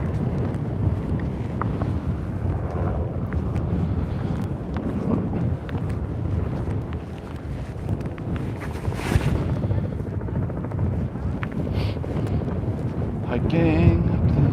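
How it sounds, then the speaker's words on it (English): Five helicopters drone in the air above a volcano, a continuous rumbling wash mixed with strong gusting wind buffeting the microphone, while people talk nearby. "the sound of 5 helicopters in the air definitely ruins"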